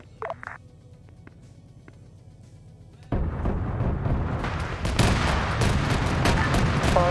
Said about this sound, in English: Autocannon fire 30 mil from the south, probably about 500 meters outside my guys.